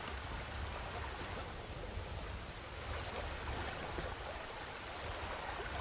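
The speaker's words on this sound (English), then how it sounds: "And the waterfall sound." Ambient waterfall sound in the survival video game Enshrouded: a steady, soft, continuous rush of falling water, even in level throughout with no voices.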